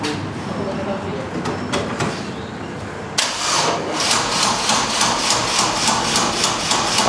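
A cold Fiat 800 Turbo engine cranks with rhythmic starter clatter, then catches loudly and settles into a rough, pulsing idle that carries on to the end.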